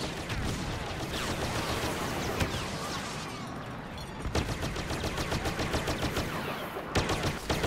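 Rapid automatic-style blaster pistol fire in the Star Wars Battlefront video game, dense bursts of quick repeated shots with a brief pause midway, then continuing in fast strings amid battle noise.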